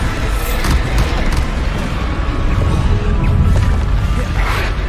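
Bombardo explosion spells in Hogwarts Legacy blast amid continuous dense combat noise, booming low rumbles and crashes layered over a steady, loud wash of battle sound with no clear pauses.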